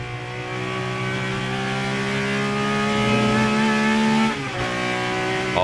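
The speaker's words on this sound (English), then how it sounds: "Oh my God, it sounds so good shifting" BMW M1 ProCar engine heard onboard, a loud sustained high-revving howl climbing through the gears, with a sharp shift break near the end and no talk.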